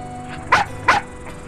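A dog barks twice in quick succession, loud and close, followed by a fainter third yip with no voices present.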